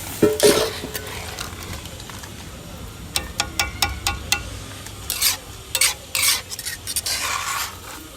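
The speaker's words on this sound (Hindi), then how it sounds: "ध्यान से इसमें पलटा चलाना पड़ेगा।" A spatula scrapes and stirs thick halwa in a pan, with a soft sizzle beneath, a run of sharp clinks and scrapes in quick succession, close and fairly loud, then a quieter stretch.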